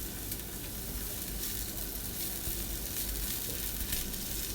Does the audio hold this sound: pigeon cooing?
no